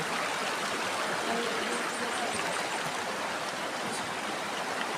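A clear stream flowing near a village, a steady, dense rush of water that stays constant throughout, close and fairly loud with no voices.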